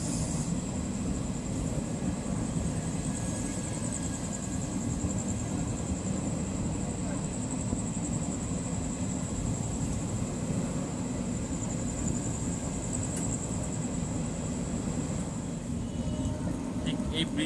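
A train runs past on the Howrah line near a bridge where the tracks split, a steady, loud low rumble with a thin high whine lasting throughout.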